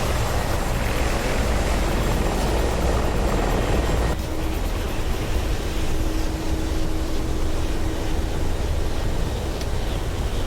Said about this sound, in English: The one with the rotor on each end of it. The Oscar Mayer Wiener with a blade on each side. That's the Chinook.